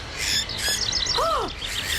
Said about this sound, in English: these are aggressive birds